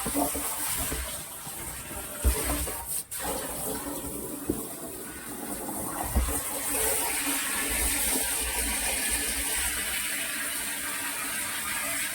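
Water pours continuously out of a cracked 750-litre water tank in a steady, close rushing flow, broken by a couple of brief knocks.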